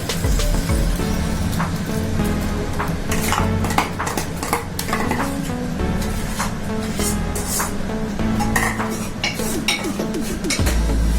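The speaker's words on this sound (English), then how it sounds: "Let it fry." Onion tomato paste fries in butter in a pan, with a steady sizzle mixed with clinks and scrapes of a metal spoon stirring against cookware, close and busy throughout.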